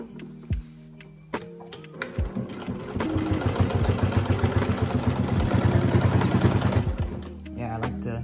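A sewing machine double stitches the corner of a pocket on a fabric piperoll, a steady mechanical chatter of rapid stitches running for about four seconds after a few sharp clicks and handling noises.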